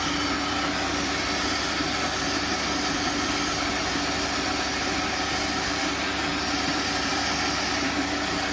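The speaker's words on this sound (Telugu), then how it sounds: "ఇదేంటంటే ఆ చిన్న మోటార్ ఫ్రెండ్స్." The small motor of a water purification plant runs with a constant, even hum and slight vibration, steady and unbroken from start to finish.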